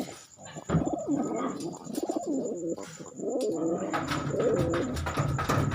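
Pigeons coo repeatedly nearby in soft, throaty bursts, with a faint high steady tone in the background and occasional rustling.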